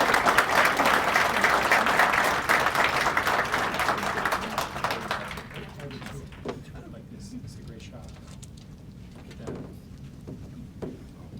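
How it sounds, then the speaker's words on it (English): A crowd at a police awards ceremony gives a loud round of applause that swells briefly, then thins into scattered claps after about five seconds, with voices murmuring as it dies away. "Round of applause."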